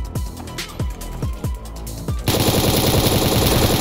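In a multiplayer shooter video game, a plasma gun fires a rapid series of sharp, punchy shots, several distinct bursts in quick succession, followed by a loud continuous stream of automatic fire.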